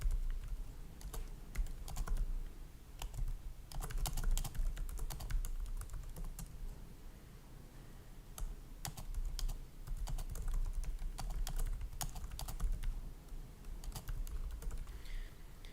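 Steady computer keyboard typing while code is being written, brisk irregular keystrokes with bursts and short pauses, close and fairly quiet over a low background hum, no talking.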